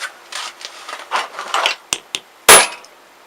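Centre punching a metal pannier before drilling, a few light scraping and tapping sounds followed by sharp, close metallic strikes, the last one the loudest.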